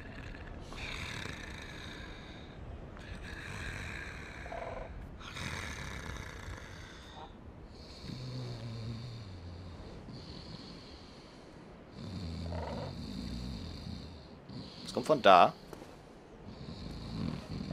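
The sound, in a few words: snoring creature in the video game Dark Souls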